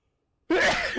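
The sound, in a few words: sneezing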